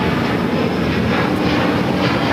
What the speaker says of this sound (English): we do also have the Delta A350 taking off to Atlanta